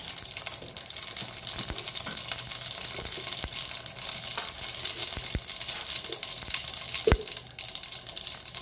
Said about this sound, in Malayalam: ഇനി ഇതിലേക്ക് നമുക്ക് 1/2 ടീസ്പൂൺ കടുക് ഇട്ട് കൊടുക്കാം.